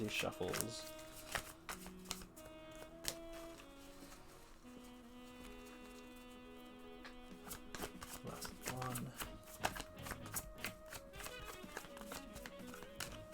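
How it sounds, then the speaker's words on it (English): Repeated crisp riffling and snapping of a tarot card deck being shuffled, several quick bursts with taps between, while people talk nearby. "Hold on, let's finish these shuffles. Last one."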